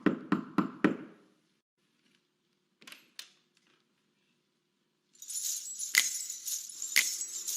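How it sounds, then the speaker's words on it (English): Knocking at a door: four quick knocks at the start, then two fainter taps after a pause, followed by a jangling, bell-like sound. "is that someone knocking at the door?"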